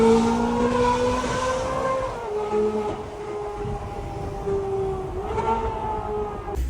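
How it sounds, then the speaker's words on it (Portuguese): Ferrari F430 with a Formula 1-style exhaust, its engine holding a loud, steady high-pitched wail with a slight pitch dip and rise near the end, heard close and alone without talk. "É simplesmente uma F430 com som de Fórmula 1."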